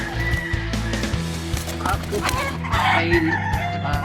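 Roosters crow and chickens cluck close by, several calls overlapping, with a person talking over parts of it.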